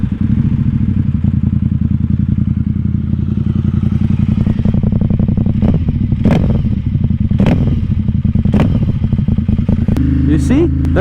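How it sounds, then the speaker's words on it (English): A Ducati XDiavel S motorcycle with an aftermarket Termignoni exhaust idles with a deep, loud, throbbing exhaust, punctuated by sharp pops and crackles, then blips higher near the end. "I've changed my exhaust. I now have Termingioni, and it sounds amazing compared to stock exhaust."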